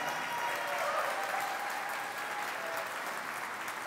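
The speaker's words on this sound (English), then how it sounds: "Maybe a round of applause for them" Audience at a city's State of the City address applauds, a steady wash of clapping from a crowd that holds evenly throughout with no voices over it.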